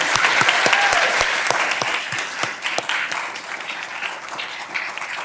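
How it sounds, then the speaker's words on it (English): Audience applause for competitors at a law school moot court competition final, a full steady round of clapping from a seated crowd, loud at first and easing slightly toward the end, with no talking. "round of applause for all of these wonderful competitors"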